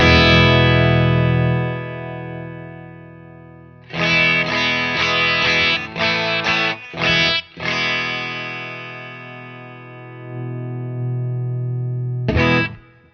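Guitar strumming a big open E chord through a Wampler Totally Buffed pedal on its Deluxe Suck setting: one loud ringing strum that decays, then a burst of rapid choppy strums, a long sustain and a final hit.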